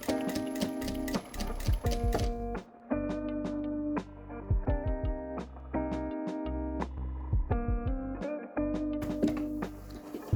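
A domestic sewing machine stitches a half-moon makeup bag in steady runs of rapid mechanical ticking, pausing briefly a few times and restarting, close and loud with no talking.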